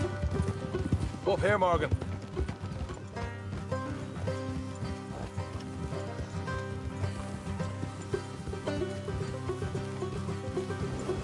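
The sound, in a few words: horses' hooves clip-clopping in a video game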